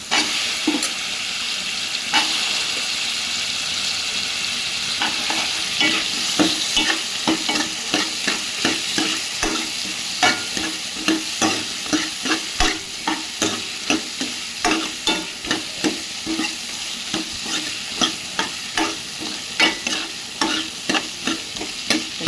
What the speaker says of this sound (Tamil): இப்போ நான் கத்திரிக்காய் போட்டுறேன்